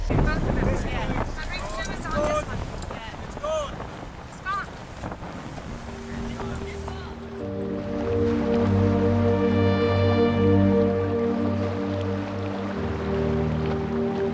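Sailing yacht motoring with its engine running in calm doldrums during an ocean race, a steady droning hum with wind buffeting the microphone, following an earlier stretch of talk and movement.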